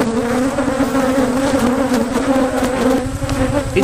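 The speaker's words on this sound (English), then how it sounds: "The bees have gotten feisty." Agitated honey bees swarm around their hives in a dense, loud, unbroken buzz, close and constant throughout.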